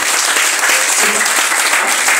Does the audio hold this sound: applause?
yes